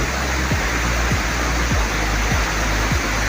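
Hot spring water pours out of rock in a steady, loud rushing wash, with faint periodic low thumps beneath the constant flow.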